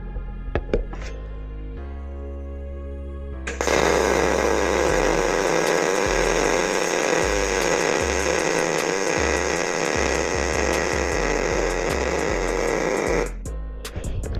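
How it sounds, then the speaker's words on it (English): A Miller Multimatic 215 Pro MIG welder lays a bead in one continuous, steady crackling hiss lasting about ten seconds, preceded by a brief click and hum. "Give it a weld, see how it feels."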